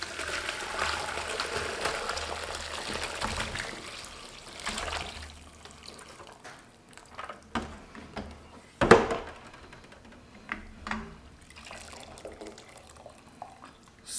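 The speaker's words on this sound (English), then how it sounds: "we're just pouring it into a colander" Turkey stock poured through a colander, a broad wet splashing rush for the first few seconds that thins into scattered drips and trickles, with a sharp clatter near the middle; no talking.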